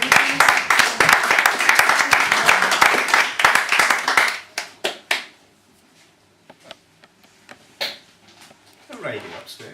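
A poetry-reading audience claps warmly for a performer, a dense burst of applause lasting about four seconds before fading into a few scattered claps, with a voice speaking near the end.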